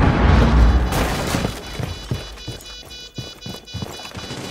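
A frag grenade in Rainbow Six Siege lands with a loud, deep blast at the start, its boom rolling off over the first second, followed by scattered thuds and impacts of combat.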